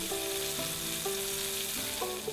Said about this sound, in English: In the same pan with the crab juices, add rice vinegar, sesame oil and fry the onions and garlic.